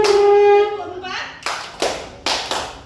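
In a group clapping game, several sharp hand claps come in a slow counted rhythm, each crisp and close, after a child's sung or spoken voice at the start.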